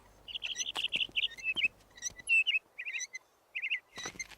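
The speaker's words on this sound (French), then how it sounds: "J'ignorais que tu étais un oiseau chanteur." A small songbird sings in quick bursts of bright, high chirps and trills, with short pauses between phrases and a few sharp clicks mixed in.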